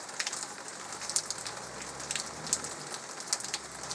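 Steady rain falls on a May morning, a dense continuous hiss of drops on surfaces with scattered brighter spatters and drips standing out, no voices.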